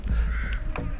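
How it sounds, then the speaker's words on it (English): Crow cawing outdoors near Stonehenge during an overnight wild camp, a short raspy caw over steady low wind rumble. "There's a crow."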